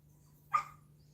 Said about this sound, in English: Jasper is at the door barking